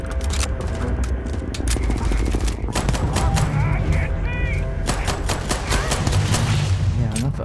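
A small SMG fires in the space game Starfield, loud rapid bursts of automatic gunfire rattling almost without pause, with other combat sounds layered underneath.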